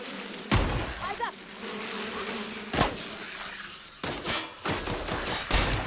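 Giant mantillae insects in The Outer Worlds make a buzzing drone that runs through most of the scene. Sharp gunshot bursts cut across it.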